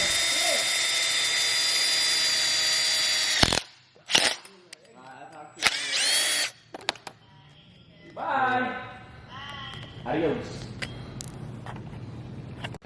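A power drill drives self-tapping screws into a DIY hand brake extension, giving a loud, steady whine for about three seconds before cutting off. Short bursts of tool noise follow, mixed with voices.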